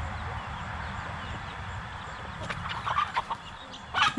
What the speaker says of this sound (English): The rooster chasing that one.